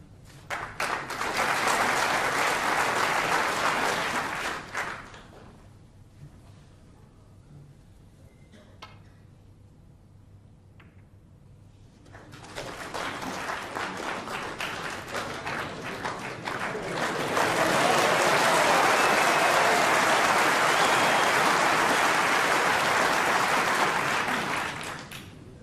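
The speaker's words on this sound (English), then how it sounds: "A lot of applause from our audience here" Snooker crowd at the Crucible applauding during the 1992 Stephen Hendry v Jimmy White match, two loud bursts of clapping separated by a quiet lull, the second swelling fuller and longer.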